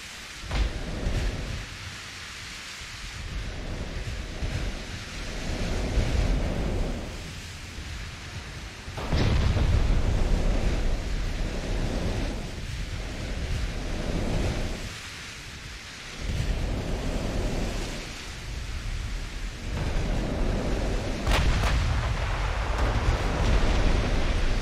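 Heavy naval gunfire from 9-inch guns on enemy cruisers in a warship battle game, rolling as deep booming blasts and rumbles that swell and fade in repeated waves over a continuous low roar.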